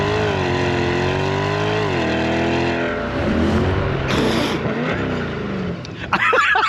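A C8 Corvette launches under launch control, the engine note climbing through a gear then roaring on with wind and road noise as people in the car shout over it, loud and close.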